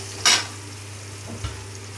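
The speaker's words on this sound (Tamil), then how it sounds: "போட்டுட்டு நல்லா வதக்கணும்" Green chillies being sautéed in a pan for tomato thokku, with a quiet oil sizzle and a couple of brief stirring scrapes against a low background hum.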